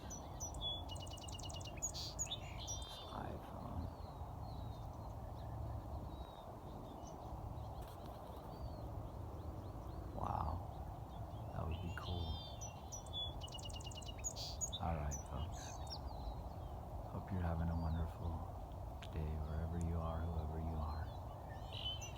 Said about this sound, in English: A beautiful bird chirping morning.